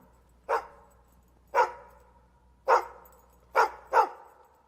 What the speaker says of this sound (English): we got the barking in